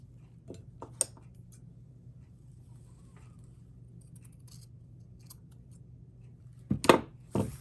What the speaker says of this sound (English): I'll probably trim this fur. Trim that off a little bit.